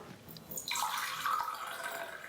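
Water poured into the bottom chamber of a moka pot for stovetop Italian coffee, a steady splashing trickle that starts softly then grows fuller and louder, heard alone and close.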